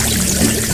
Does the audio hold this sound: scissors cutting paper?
no